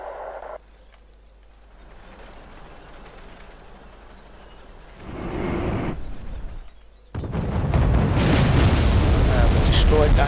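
A destroyed SP1 unit exploding in the Wargame: European Escalation strategy game, heavy rumbling booms that swell and break into a loud, sustained crackling roar toward the end, with a voice speaking early on.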